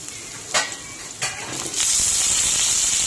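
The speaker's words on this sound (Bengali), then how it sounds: "এখন আমি আলুগুলো ছেড়ে দেবো" Potato pieces going into hot oil with cumin in a kadai, first as a few separate splashes of sizzle, then a loud, steady frying hiss that carries on to the end.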